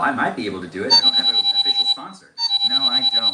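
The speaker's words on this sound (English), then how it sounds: "That was a phone call that I am getting" An incoming phone call rings in a rapid, trilling electronic pattern of repeated bursts, close by, heard under and between a man's speech.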